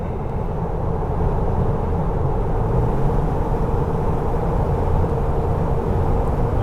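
A Jeep TJ with 3.73 gears and 32-inch tires picks up speed on cruise control, giving a steady, loud engine and road drone that holds evenly throughout, with no voices.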